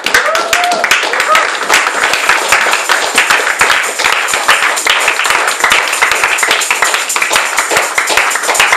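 A church congregation applauding at a Sunday service, steady dense clapping from many hands filling the room, loud and continuous without pause.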